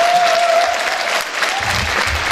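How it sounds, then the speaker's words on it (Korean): Audience applause for a Busan traffic radio station director at a winter DJ concert, a dense steady clapping from a sizable crowd that runs for the full stretch at strong, even volume. "김재철 본부장님 박수를 좀 해주시면"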